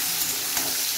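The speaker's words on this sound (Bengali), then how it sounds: "এরপর দিয়ে দেবো টমেটো আর কাঁচা লঙ্কা, এগুলো দিয়ে একটু নাড়বো।" Tomatoes and green chillies go into frying potatoes, a brief burst of hissing sizzle as they are stirred, close and loud.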